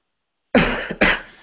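Two sharp coughs from one person, close and loud, the second following half a second after the first, during an online group video call.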